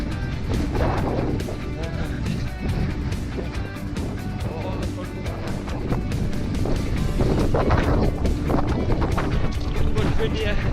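Strong wind buffeting the microphone on an exposed hill between Dunmore and Hedgehope during a winter half-marathon fell race in Northumberland, a loud steady roar with gusty rumbling throughout.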